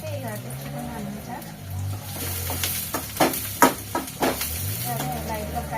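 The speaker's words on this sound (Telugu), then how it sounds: "సరే లైట్గా ఫ్రై అయిపోతున్నాయి." Egg pieces frying lightly in a pan, a steady sizzle with scraping stir strokes, a voice talking over it.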